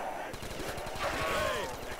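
Rapid automatic gunfire rattles in the Black Ops 2 Zombies video game on a remastered custom map, a dense continuous burst of shots with game effects sweeping over it.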